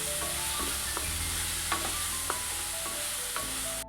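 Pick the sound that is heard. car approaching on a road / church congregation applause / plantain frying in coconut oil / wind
plantain frying in coconut oil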